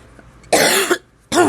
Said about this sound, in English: I don't want to be coughing in your ear.